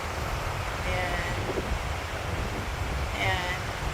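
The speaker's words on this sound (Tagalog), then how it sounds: "Malakas ang hangin." Strong wind sweeps across a lake at St. Albans, Vermont, making a steady, close, rumbling roar with slight gusting and choppy water beneath. A faint voice sounds now and then.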